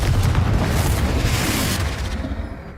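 A Confringo fire spell explosion in the video game Hogwarts Legacy, a loud deep boom with a rumbling blast that decays slowly over a few seconds, heard alone.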